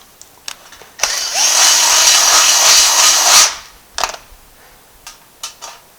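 A power drill runs in one steady burst of about two and a half seconds on a part of a 1955 car. Short knocks and clatters follow after it stops.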